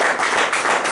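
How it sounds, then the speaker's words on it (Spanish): A church congregation claps loudly together in a steady, dense burst of applause that fills the room. "Démosle una fuerte ofrenda de palmas para el Dios"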